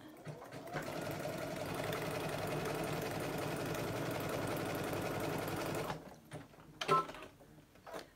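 A sewing machine stitching appliqué around a curve runs at a steady fast whirring hum for about six seconds, then stops and gives a few slower stitches and clicks, close up, with no talking.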